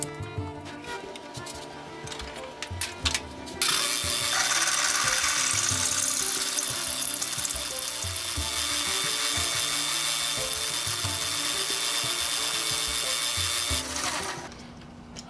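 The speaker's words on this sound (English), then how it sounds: "I'm going to go ahead and bore the rest of these while I got the setup in there" A metal lathe bores axle mounts for a wheelbarrow hub made from half-inch pipe, a steady loud cutting whine running from about four seconds to fourteen, with quieter clanks and setup noises before and after.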